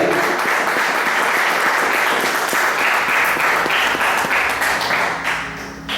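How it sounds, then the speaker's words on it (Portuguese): Church congregation applauding during an evening service, loud continuous clapping that tapers slightly near the end, with faint musical tones underneath. "Aplauda o Senhor Jesus nessa noite."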